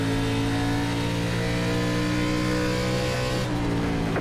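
A NASCAR ARCA race car at the Milwaukee Mile in the iRacing video game, engine droning loud and close as the throttle is held on, steady revving with a slight pitch shift near the end.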